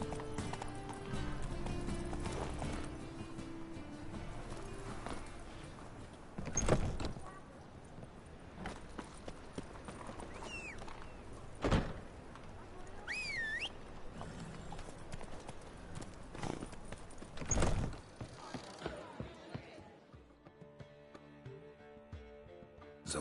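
Roach, the horse in The Witcher 3, hooves clip-clopping at pace over a game soundtrack with music and effects, a few louder thuds and a whinny-like sweep, before the hoofbeats fade into quieter music near the end.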